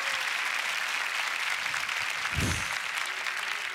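Dense, steady applause and cheering from the audience at a beatbox battle, sustained and loud throughout with a brief low thump partway through.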